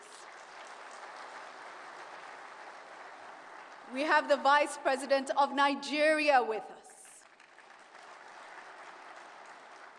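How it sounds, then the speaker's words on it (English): Steady applause from the audience at an investment forum plenary honoring African heads of state, a continuous soft wash heard before and after someone speaks over it. "Let's give them a round of applause, please"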